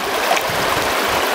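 A shallow stream flows steadily with a continuous rushing and trickling wash, close and fairly loud, with no voices.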